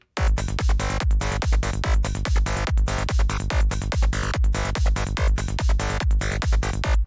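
A fast, driving electronic loop: steady punchy kick drum and deep bass under a busy, bright synth pattern, loud and continuous with no talking.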